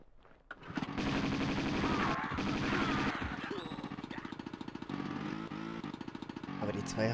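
Rapid machine pistol gunfire from the video game Tomb Raider 2, with steady repeated shots, clearest in the second half, and busy game sound or voice underneath.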